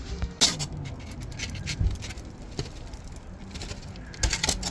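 Sand rattling loose inside a car part being handled during an EF Civic sedan restoration, sounding like a rain stick; irregular gritty patter with a few louder knocks, close and fairly loud, no voices.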